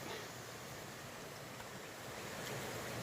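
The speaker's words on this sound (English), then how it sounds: "And this is Jenkins Creek" Jenkins Creek on the Appalachian Trail, a steady broadband rush of flowing water with some wind noise, even and continuous throughout.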